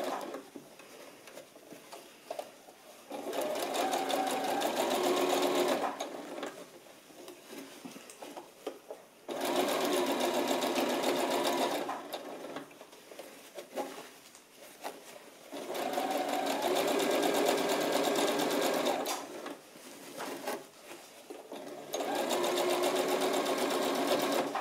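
A sewing machine stitches a second gathering thread 8 mm from the edge, running in four sustained bursts of rapid, rattling stitching separated by short quiet pauses.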